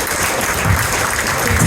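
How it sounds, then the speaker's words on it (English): Sustained applause from a dinner audience at a corporate event, dense and steady clapping filling the room at close range for the whole stretch, with no talking over it. "give yourselves a massive round of applause"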